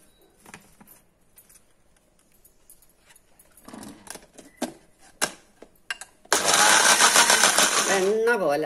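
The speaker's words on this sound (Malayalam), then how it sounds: "പിന്നെ നമുക്കത് വെള്ളം ഒഴിച്ച് അരക്കാം" A mixer grinder works a spice paste with water: scattered clicks and knocks, then the motor bursts into a loud, continuous whirring grind for the last couple of seconds.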